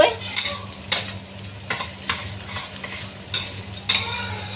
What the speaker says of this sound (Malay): So ni kita tumis dia sampai lebih kurang apa tu, dia punya bawang dia layu